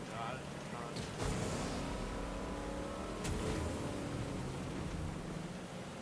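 Car engine revving and accelerating in Fortnite, a steady loud drone with rising bursts over game noise, while players talk over it.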